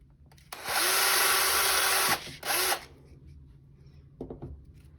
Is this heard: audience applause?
no